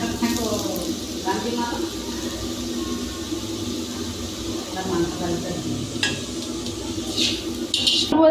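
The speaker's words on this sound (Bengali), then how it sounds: "তো আলু ভাজা তো চলছে, আর একটু বাকি আছে, সেদ্ধ হয়ে গেছে, একটু মুচমুচে করে ভাজবো।" Potatoes crisping in hot oil for a picnic meal, a steady low sizzle with utensil clinks and stirring, while a person talks over it for much of the time.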